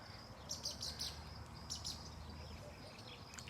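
Several short high chirps from a bird perched in a tree, heard in small bursts over a low, steady background rumble, fairly faint and moderately distant.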